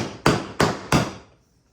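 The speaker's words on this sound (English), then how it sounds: "Now I'm not going to hammer this in all the way." Three sharp hammer blows ring out at an even pace, close and moderately loud, as a part is driven in during a panhard bar installation on a C10 truck with air ride suspension, then the last strike fades out.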